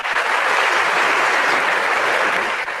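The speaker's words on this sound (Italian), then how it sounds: "vai con l'applauso" Applause sound effect played on an Italian radio call-in show, a dense, loud, continuous crowd clapping that runs unbroken for a few seconds, no voices over it.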